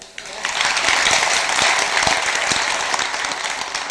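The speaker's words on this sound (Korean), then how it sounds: "한 박수 한번 주세요." A temple audience at a Sunday Buddhist Dharma talk breaks into sustained clapping, a dense, lively applause that starts abruptly and holds steady for several seconds.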